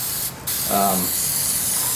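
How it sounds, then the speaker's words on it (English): Flat black spray paint hisses from an aerosol can onto cardboard dungeon tiles in one steady, close, continuous burst that runs through the whole moment. "just hit it with the flat black spray paint"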